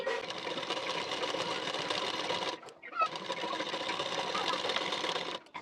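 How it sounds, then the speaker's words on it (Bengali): An electric sewing machine stitches a blouse in two long, fast, rattling runs with a brief pause between them, loud and close, the second run ending abruptly. "আমি মেশিনে সেলাই দিয়ে নিচ্ছি"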